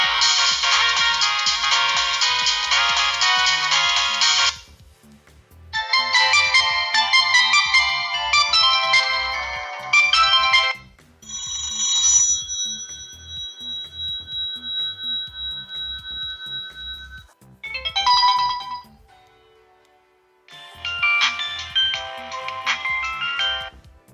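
Polyphonic ringtones from a Sony Ericsson Z310 mobile phone play as several separate loud melodic bursts, each a few seconds long with short gaps between, including one sustained tonal chime, with no talking.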